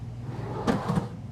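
A soft-close drawer in a 2025 Newmar Bay Star 3826 motorhome slides shut, giving two muffled, close thuds as it glides and settles quietly.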